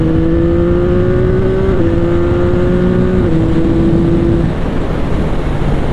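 A CF Moto 675 SR-R motorcycle engine pulls hard under steady acceleration, its tone rising smoothly and dropping briefly at two gear shifts before fading into a steady drone, loud and close with no voices.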